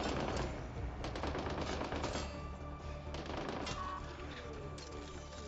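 Enemies fire guns in a firefight in the video game Mass Effect: Andromeda, with dense rapid automatic bursts crackling almost without pause, fairly close, over a low background rumble.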